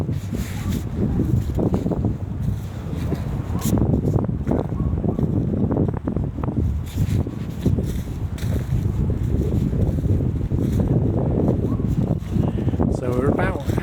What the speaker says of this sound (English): The wind's really picking up now.